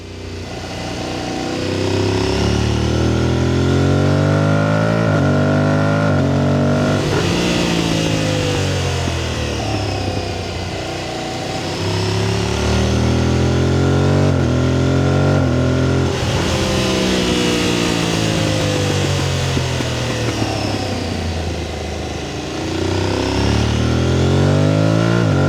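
A motorcycle engine picked up by a small clip-on microphone magnetised to the fuel cap, revving repeatedly through rising and falling gears, loud and close, with cyclic swells of throttle and no talk.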